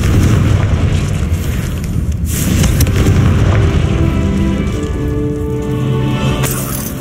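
The Confringo fire spell from Hogwarts Legacy goes off as a loud, dense blast, with a rumbling boom and crackling fire that carry on for several seconds.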